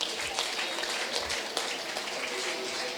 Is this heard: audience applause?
yes